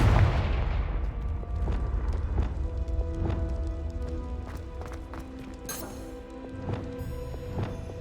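Fire spell blasts cast in Hogwarts Legacy, a few sharp booming bursts landing over a steady layer of game music and ambience, fairly loud and close.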